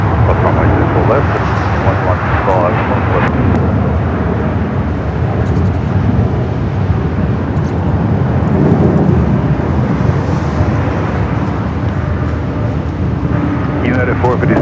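A Boeing 787 Dreamliner takes off at LAX, a broad continuous jet roar that stays loud throughout, with voices talking over it.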